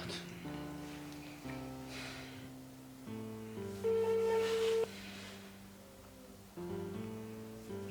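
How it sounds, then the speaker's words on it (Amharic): An unanswered phone call rings out as a steady electronic ringback tune. Sustained tones step from pitch to pitch at a moderate level, with no voices. "የደወሉላቸው ደንበኛ ስልክ አይመልስም።"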